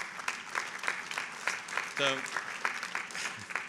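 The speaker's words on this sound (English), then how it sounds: "I like partial clapping." Scattered, partial clapping from a graduation audience at Harvard Class Day, patchy claps under a speaker's voice with a brief laugh-like sound midway.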